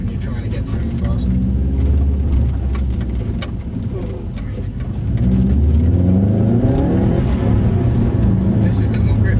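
A Subaru Impreza (Scooby) on an airfield track accelerates hard through the gears, its engine droning steadily and loud, rising in pitch as each gear is held, with a voice talking over it inside the car.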